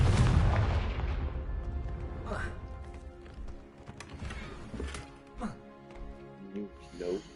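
A Confringo fire spell explodes in the Hogwarts Legacy video game, opening with a loud blast whose roar fades over a couple of seconds, followed by smaller crackling bursts and thuds amid game sounds and voices.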